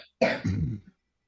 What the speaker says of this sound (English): that sounds like a nasty cough you have over there.